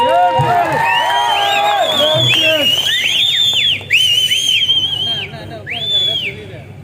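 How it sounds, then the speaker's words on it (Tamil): Crowd at a political rally in Pudukkottai cheering and whistling loudly, with sharp rising whistles cutting over a continuous roar of voices that dips briefly midway and then swells again. "ஒரு ஆரவாரம் கொடுக்கணும்."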